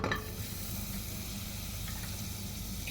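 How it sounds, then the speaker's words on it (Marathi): Butter sizzles in a hot cooking pot with a steady, close frying hiss and a small clatter at the start. "टोप मी गरम करायला ठेवलं आहे, त्याच्यामध्ये मी थोडं बटर टाकते"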